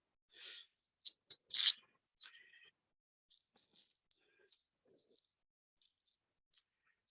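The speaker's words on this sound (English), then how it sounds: "I don't know if you can hear me peeling this." Papery onion skin is peeled off by hand in a home kitchen, giving sharp close crackles and tearing bursts at first, then sparse faint rustles and clicks in near silence.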